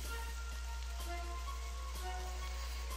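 Video game rain hisses steadily throughout with a dense crackling patter and a low constant rumble, plus a few faint tonal notes drifting in the background.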